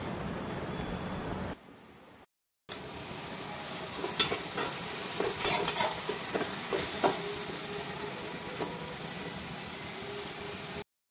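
Cluster beans sizzle steadily in a hot pan, a loud hiss broken by a brief silent cut, then scraping and clinking stirring strokes over the constant frying.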